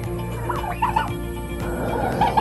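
Turkeys kept on a farm gobble in short bursts, moderately near, over a steady hum of background noise with no talking.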